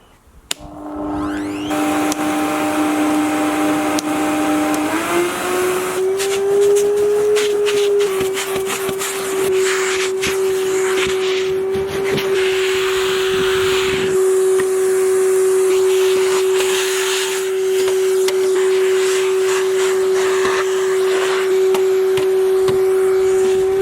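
A Numatic Hetty vacuum cleaner runs continuously and loudly on its own after a brief start-up whine, its steady motor drone holding a constant pitch throughout, after use sucking up building rubble.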